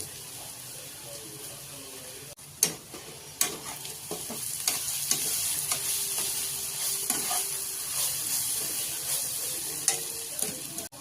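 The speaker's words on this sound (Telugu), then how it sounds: "ఇప్పుడు కాకరకాయ వేసుకోండి. బాగా తిప్పి ఒక 5 నిమిషాలు సిమ్లో ఉండాలి." Bitter gourd being stir-fried in a pan, a steady loud sizzle with sharp scrapes and knocks of a spatula turning the pieces, close up and without speech.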